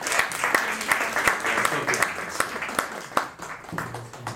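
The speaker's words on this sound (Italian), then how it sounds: "un applauso." A lecture audience applauds at a talk on Kant and quantum physics, steady moderate clapping with sharp individual claps standing out, slowly thinning toward the end.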